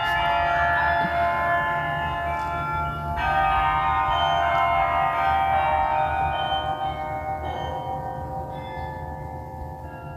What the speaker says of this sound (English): These bells go off every hour